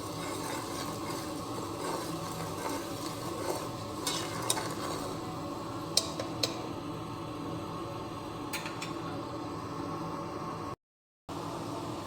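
Ingredients are stirred and mixed in a pan with chilli powder and salt, a quiet steady hiss with occasional soft scrapes and clicks, ending with a brief drop to silence.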